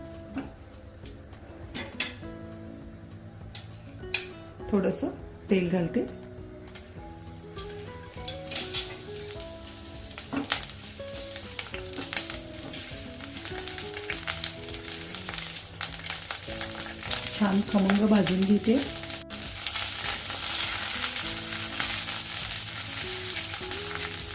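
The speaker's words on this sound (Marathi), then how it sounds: "सुरुवातीला कोरड्या भाजायच्या आहेत आणि नंतर थोडंसं तेल घालून भाजायचं" Whole chilies dry-roasting in a pan, then frying in a little oil, for a chivai leaf vegetable dish: a steady sizzle with scraping stirs and occasional utensil clinks, the frying growing louder and hissier toward the end.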